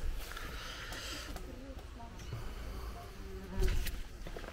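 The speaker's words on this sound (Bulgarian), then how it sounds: "Вътре живеят оси." Wasps living inside the wall of the Aladzha monastery give off a close, continuous buzzing drone, with people talking over it.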